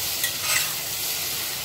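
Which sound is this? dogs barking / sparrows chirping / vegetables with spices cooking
vegetables with spices cooking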